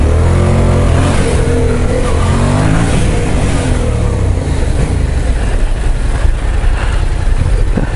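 A 2014 Yamaha MT-07 motorcycle engine pulls steadily while riding on the road, a loud, continuous rumble with rising and falling revs and wind noise, close and unbroken throughout.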